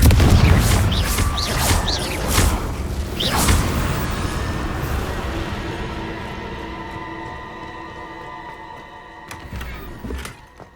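Heavy booming blasts from the Confringo fire spell in Hogwarts Legacy open with several loud explosive bursts, then die into a long rumbling, ringing decay with a few scattered impacts near the end.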